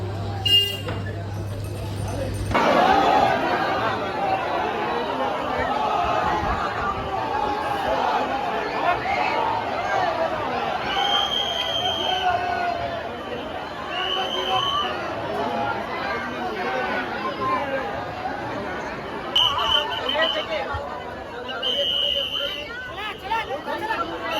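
A dense crowd murmurs and chatters steadily for the whole stretch at the 2024 Lalbaugcha Raja Ganpati darshan, with a constant loud babble of many voices and occasional faint horn-like or buzzer tones rising above it.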